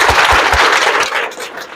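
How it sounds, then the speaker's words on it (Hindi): An audience at a college farewell ceremony breaks into loud, dense clapping close by, a burst of applause that slowly fades over under two seconds. "जोरदार ताली"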